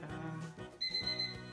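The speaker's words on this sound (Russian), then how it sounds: "Это мой будильник." A LEGO Batman minifigure-style alarm clock starts ringing partway through, a steady high electronic beeping tone that switches on abruptly and repeats over low background sound.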